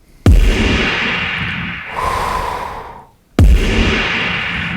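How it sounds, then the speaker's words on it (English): Two heavy booming kick drum hits through Kilohearts Convolver convolution reverb, each followed by a long washy reverb tail that swells and fades, separated by a brief gap. "if we come in here and we turn on our convolution reverb"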